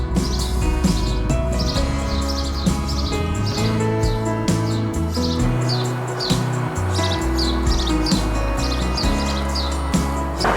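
Busy, repeated chirping of house sparrows close by, constant overlapping tweets over a low background hum.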